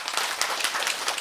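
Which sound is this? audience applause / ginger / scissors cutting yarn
audience applause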